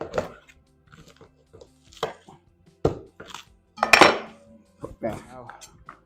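A knife chopping through peeled corn on a board, sharp scattered thuds and clacks at an irregular pace, close and fairly loud, with a voice murmuring briefly.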